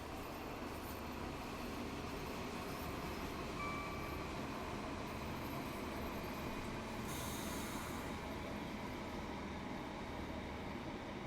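Train Sim World 3 train on the Glossop Line rolls along with a constant rumble and faint squealing wheels, with a brief brighter hiss partway through.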